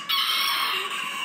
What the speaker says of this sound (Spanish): Y en la parte de acá tenemos a un gallito